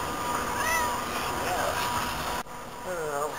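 A cat meows a few times during a grooming visit at a pet salon, its rising calls woven into steady background noise while people talk over it.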